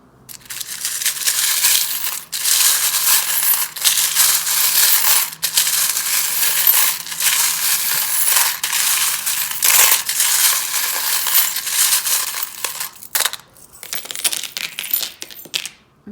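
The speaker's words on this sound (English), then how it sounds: "the charms can be a little bit loud when I'm shuffling through them" Metal tarot charms clink and rattle continuously as they are shuffled, a dense jangling with brief pauses and a few sharper knocks, loud and close with no voices.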